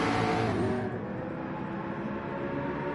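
A McLaren race car in a racing video game revs loudly as it sweeps past, its engine roar dropping in pitch after the first second and then holding a steady, dense drone.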